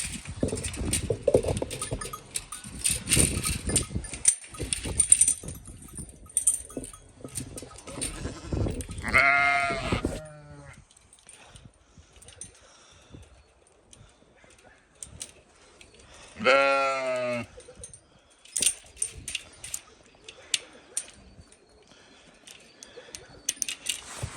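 Sheep bleat repeatedly on a farm, a few loud close calls standing out among more distant bleats, hoof clatter and rustling, with occasional human calls to the flock.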